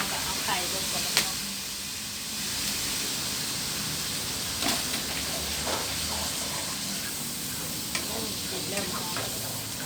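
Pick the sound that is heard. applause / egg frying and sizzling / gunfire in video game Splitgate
egg frying and sizzling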